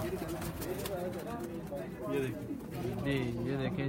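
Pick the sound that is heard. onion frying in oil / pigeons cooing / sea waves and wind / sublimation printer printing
pigeons cooing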